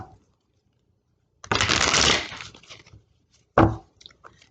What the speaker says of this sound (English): There's one more shuffle.